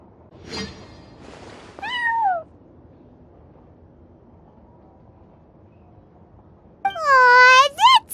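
Sir Pouncelot, a cat in a video game, gives a few clear meows: a short call early, a drawn-out falling meow, then a louder, longer meow near the end over quiet background.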